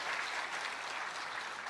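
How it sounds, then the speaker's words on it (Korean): A congregation applauds in church with dense, steady clapping from a crowd, sustained evenly throughout and heard alone without talk. "Un aplauso."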